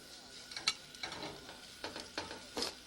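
Frog legs frying in a pan after being turned, a low steady sizzle with soft scraping and clinking of a utensil at intervals, fairly faint and close, no talk.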